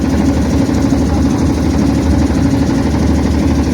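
A boat engine chugs steadily and close by, a rough, even drone with a rapid pulsing beat, during a boat ride past the Kashi ghats, with no talk.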